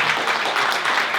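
Audience in Ghilarza applauding a poet at a cultural evening, with dense, loud clapping filling the room and no one speaking over it.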